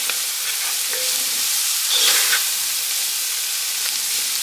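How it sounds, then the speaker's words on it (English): Garlic sautéing for cabbage soup, a soft steady sizzle with light stirring scrapes in a pot, moderately loud and continuous with a slight swell partway through. "Okay, so add the garlic in and mix this up."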